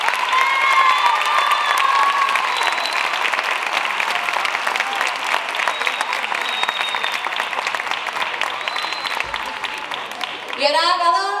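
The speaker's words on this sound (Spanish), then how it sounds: "Fuerte aplauso para Juan y Alberto." Audience applause fills the hall at an arts gala in Berja for a bugle and drum band, steady, dense clapping with scattered cheers and voices, holding for about ten seconds before tapering near the end.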